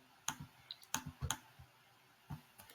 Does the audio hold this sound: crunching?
no